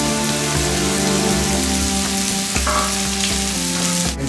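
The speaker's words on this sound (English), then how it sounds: "See that the onion is getting brown and fixed. You don't have to fry them too much." Onions browning in a hot pan for a peacock casserole, a dense, loud, steady sizzle with a faint stir or tap partway through, close up and without speech.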